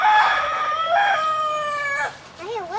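A rooster on a farm in Kauai crows loudly and close, one long drawn-out cock-a-doodle-doo followed by a short wavering call, with no talk.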